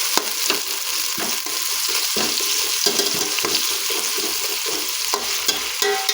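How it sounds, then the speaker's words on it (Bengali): Two medium chopped onions fry in oil toward golden, a dense close sizzle broken by frequent rhythmic scraping stirs of a spatula in the pan, with no talking. "ওই তেলেতেই 2 মিডিয়াম সাইজের পেঁয়াজ কুচিয়ে রেখেছি, দিয়ে দিচ্ছি। পেঁয়াজগুলো হালকা গোল্ডেন কালার করে ভেজে নিচ্ছি।"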